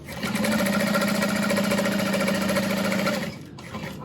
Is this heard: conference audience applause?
no